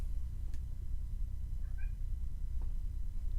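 A faint, brief cat meow rises once over a low rumbling background, somewhat distant.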